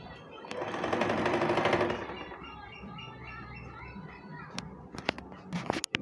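A sewing machine stitches a panel skirt in a brief, fast whirring run that stops after about two seconds, followed by quieter handling noises, sharp clicks and a voice speaking.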